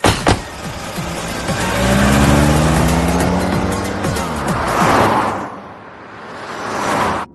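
A car revs and pulls away with a tire squeal, the engine rising in pitch through the gears before fading into the distance, then another loud rush of engine noise at the end; no talking.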